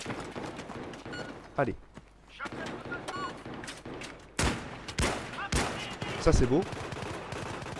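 Sniper rifle shots in Battlefield 3, a few loud sharp cracks spaced seconds apart among gameplay noise, with someone talking briefly between them.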